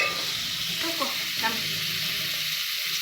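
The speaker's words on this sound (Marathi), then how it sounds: "चांगलं कांदा परतून घ्या" Onion sautés in a pan, giving a steady close sizzle broken by a couple of soft stirring scrapes.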